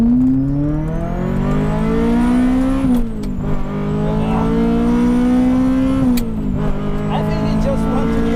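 A Ferrari engine with a manual gearbox drones loudly on the Monza race track, rising in pitch as it accelerates, dropping twice with quick gear shifts before climbing again.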